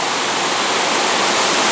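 A river rushes loudly beneath Miners Bridge in Betws-y-coed as a steady, dense roar of churning water, close by and with no voices.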